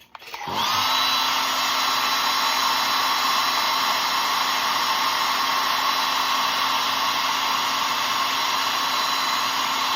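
A hair dryer blows steadily and loudly at close range, drying paint on a hand-carved wooden cardinal Christmas ornament; it switches on at the start and holds a constant whooshing drone to the end with no talk.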